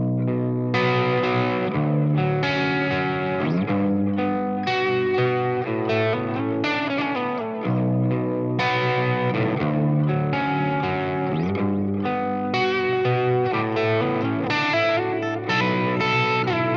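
An electric guitar runs through a Fractal 5153 amp model with the volume rolled down, giving a steady, saturated chordal and riff passage that rings continuously and sits up front with no speech.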